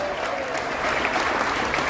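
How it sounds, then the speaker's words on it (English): Steady, dense applause from a large crowd aboard the cruise ship Enchantment of the Seas at a veterans tribute, loud and continuous throughout, with faint voices mixed in. "Give our culinary and our food operations division a big round of applause down here."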